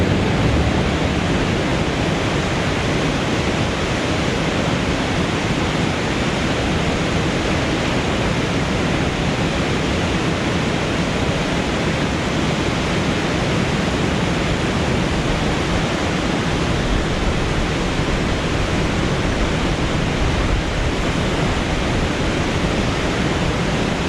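A Norwegian waterfall roars as a loud, steady, unbroken wash of noise throughout, heard from close by with no voices over it.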